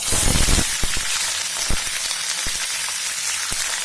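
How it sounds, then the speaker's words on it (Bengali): Chicken fries in hot oil in a kadai with a loud, close, steady sizzle and a few sharp thumps and clinks of a utensil against the pan, with no voices. "তো আমি এখন চিকেনটা এর মধ্যে অ্যাড করব,"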